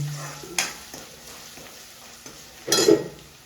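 Small chips of bitter gourd (karela) sizzle and fry in a hot pan, with a few stirring scrapes and a louder burst of sizzling near the end, close and without talk.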